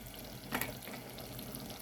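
A pot of jackfruit payasam made with sago bubbles at a boil, a soft steady simmering hiss with one brief louder bubbling burst, close by and without talking.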